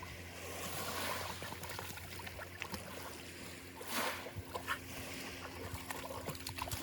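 Blue, a dog, splashes and paddles in the water at Dyer's Bay, producing soft sloshing and trickling with a few louder splashes over a faint outdoor background.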